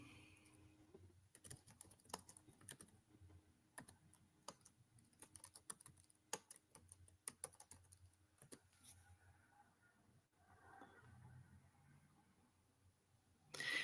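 Quiet, irregular bursts of keyboard typing, fast clusters of clicking keys with pauses between, close by in an otherwise hushed room.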